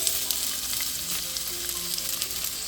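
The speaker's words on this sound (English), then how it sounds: "So my onions are sauteing." Onion, ginger, garlic and green chilies saute in olive oil, giving a steady close sizzle and crackle with small pops and occasional stirring scrapes, with no voices.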